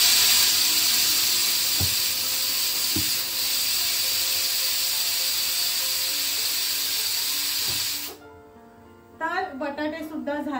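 Steam pours off freshly boiled potatoes and corn in a home kitchen, a loud, steady hiss for about eight seconds that then cuts off, followed by someone speaking.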